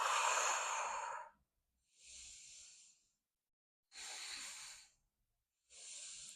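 Four slow, deep breaths taken while holding a yoga pose in an energizing flow class, each a soft hiss of air with silent pauses between, close and clear with no talking.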